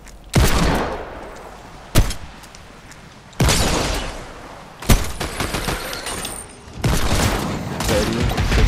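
Loud gunfire from a Fortnite match comes in several sharp bursts and single cracks separated by short pauses, each followed by a ringing, noisy tail, close and dominant.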